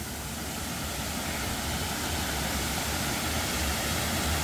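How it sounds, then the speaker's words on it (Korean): Steady broadband rush of Chima waterfall, a cascade of roughly 2 to 3 metres in the Jungwon valley stream near Yangpyeong, heard close and continuous with no voices. "여기가 치마폭포입니다. 치마폭포."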